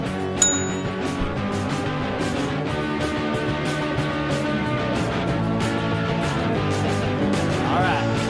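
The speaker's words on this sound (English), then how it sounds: "I'm going to go ahead and ring that bell." A single bright bell ding marks the end of a podcast episode, then a steady music bed plays on underneath at full level.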